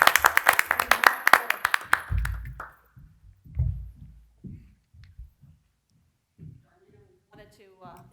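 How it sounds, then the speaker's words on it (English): Applause from the audience at a township municipal authority monthly meeting, a burst of dense clapping lasting about two seconds that quickly fades, followed by a person speaking. "So, give her a round of applause."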